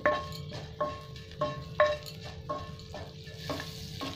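Black mustard seeds crackle in hot butter in a pan, giving a quiet sizzle punctuated by regular, evenly spaced pops and ticks roughly every half second, close by and with no talking.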